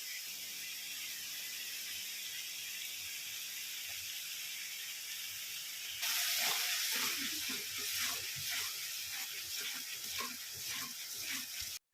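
Garlic and green chili paste hitting hot oil with onions in a pan, a constant hiss that jumps into louder crackling sizzle midway and keeps spitting to the end, with no talk.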